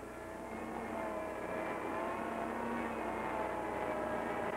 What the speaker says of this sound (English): listening to the drone of the truck motor